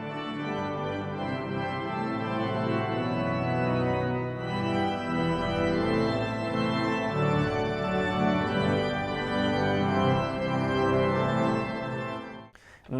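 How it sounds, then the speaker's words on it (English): Original composed organ music on a church organ, with sustained, full chords and shifting harmonies filling the space continuously for about twelve seconds before cutting off abruptly near the end. "There'll then be some original organ music that I've composed"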